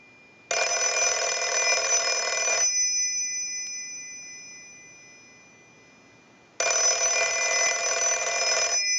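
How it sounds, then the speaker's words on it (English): An Automatic Electric GTE rotary desk telephone rings under a test ring cycle: two loud, sustained bursts of about two seconds each, separated by a long silent pause, with no voices. "We want to go ahead and use the analyzer and send a ring cycle, so we'll start that."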